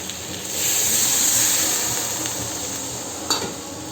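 Potato and paneer curry sizzles loudly in a pan as water hits the hot oil, a steady bright hiss swelling after half a second, then easing, with a brief clatter of stirring near the end.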